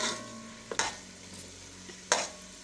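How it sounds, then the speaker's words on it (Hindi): Achar gosht gravy fries in oil with a soft continuous sizzle, broken by two sharp scraping stirs of a spoon against the pot. "जैसे जैसे बुनाई करती जाएंगी ये ऑयल, ये देखें ग्रेवी का ऑयल ऊपर आता जाएगा।"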